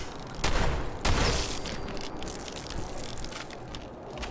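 Shotgun blasts in the video game Sim Settlements 2: two loud broadband booms about half a second apart, followed by dense rumbling game noise and continued chaotic audio.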